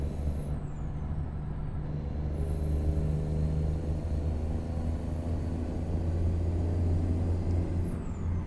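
A heavy truck engine in American Truck Simulator, hauling industrial pallets to Bozeman, drones loud and steady as it pulls, with a deep rumbling low end that holds throughout and no voices.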